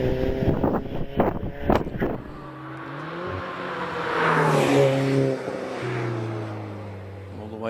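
Alfa Romeo 4C racing car at the Harewood hillclimb, heard at a distance, its engine note climbing through several gears with rising and falling pitch, under steady wind noise and a commentator's voice at the start.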